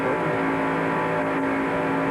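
NASCAR Winston Cup stock cars race at Daytona International Raceway during the 1994 Pepsi 400, a loud, steady engine roar with a sustained drone throughout.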